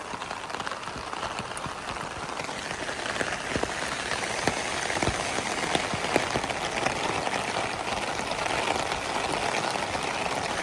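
Dense, steady patter of a heavy downpour hammering a transparent umbrella in Nagasaki, Japan, with close individual drop hits crackling over a continuous hiss, and no one talking.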